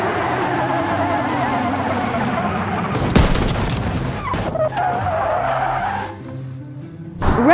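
A Tesla Cybertruck brakes hard from 200 km/h, a loud continuous roar of tires skidding and scrubbing on tarmac, with sharp bursts and a final thump as it comes to a stop.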